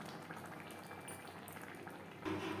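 Masoor dal with banana stem simmers in a pot on a gas stove, a soft, steady bubbling and light sputter heard close and faint, with a brief louder burble near the end.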